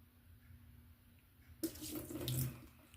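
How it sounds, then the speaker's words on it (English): A kitchen tap suddenly opens and runs into a sink, a steady splashing gush after a quiet start, close and fairly soft. "And I'm gonna run my water."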